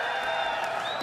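A BlizzCon crowd at a Hearthstone Q&A cheers for the Generous Spirit card, a dense, steady wash of applause and whoops that fills the hall for the full second with no break.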